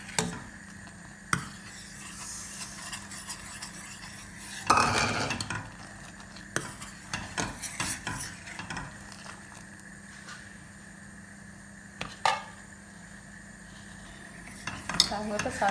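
A spoon stirs sago pearls into boiling milk in a pot while making paalputtu, giving quiet scrapes and metallic clinks, with a louder clattering burst partway through and no talking.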